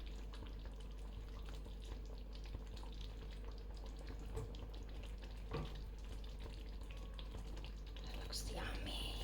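Marinated prawns, about half a kilo with salt and turmeric, stirred in a hot pan for a curry with mango and drumstick, giving a steady sizzle with scraping stirs and a few louder clinks near the end.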